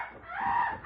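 A single drawn-out bird call, warbling and fairly loud, heard alone without talk.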